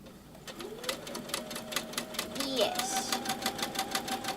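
A sewing machine runs a short back stitch on a dress in rapid, evenly spaced needle strokes, close and steady, with a voice speaking briefly over it and a higher tone shifting partway through.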